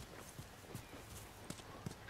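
Horse hooves clip-clop at a steady walking pace in The Last of Us video game, several soft, fairly faint thuds spread over about two seconds against a low background hum.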